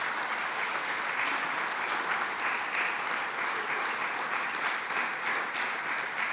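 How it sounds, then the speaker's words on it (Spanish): A church congregation applauds in praise, broad continuous clapping that stays even and fairly distant for several seconds with no one speaking over it. "Dale un aplauso a Él."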